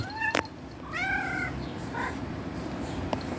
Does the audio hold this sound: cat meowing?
yes